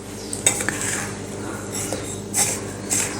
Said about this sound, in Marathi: तर आता हे सर्व व्यवस्थित मिक्स करून घेऊया